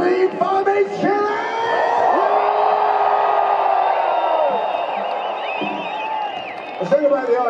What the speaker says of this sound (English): Scream for me, Chile!